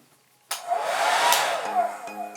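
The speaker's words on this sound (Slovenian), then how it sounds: "Jaz se tega fena bojim." Hair dryer switching on abruptly after a moment of silence, then a loud, steady whooshing blow with a slight whine that wavers and shifts in tone as it runs, close and alone.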